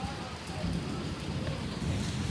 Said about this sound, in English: But you see this rain?